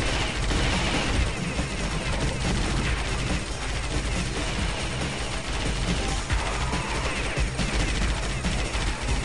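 A Vulcan gun in Alien Shooter fires in one dense unbroken stream of rapid shots, loud and close, with crashes and explosions churning underneath for the full stretch.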